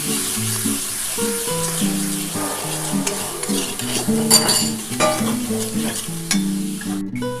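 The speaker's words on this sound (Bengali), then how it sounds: "এবার এটা ভালো করে কষিয়ে নেব।" Turmeric spice paste sautéed in a pan for Bengali katla fish kalia, a steady close sizzle with frequent scraping and clinking of a spoon stirring against the pan, no talk.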